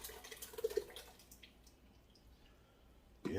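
Spaghetti sauce for a vegan spaghetti is poured from a container into a cooking pot, giving a brief burst of thick, wet glugs followed by quiet, with a voice starting right at the end.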